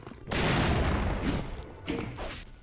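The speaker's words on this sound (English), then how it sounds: "There was indeed an earth-shattering kaboom." A big TNT explosion in the Guncaster mod for Doom erupts as a loud, sustained blast lasting over two seconds, with a second rumbling burst near the end and no talking.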